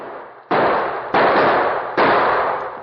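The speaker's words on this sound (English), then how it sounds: "they were suddenly startled by gunshots from the gully behind them" Three sharp, loud gunshots ring out from a gully in slow succession in an old radio drama, each blast trailing off into a short echoing decay.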